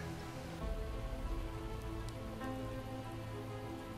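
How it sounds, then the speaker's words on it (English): Steady rain falls in the Project Zomboid video game, a continuous broadband patter of drops on surfaces that stays even and moderately loud throughout, with no talking. "it's raining"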